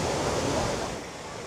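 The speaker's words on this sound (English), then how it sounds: "That's nice hearing that water." Water rushes in a steady broadband wash in a mountainous region of Japan, loud and close, fading slightly toward the end.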